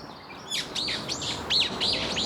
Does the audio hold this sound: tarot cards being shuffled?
no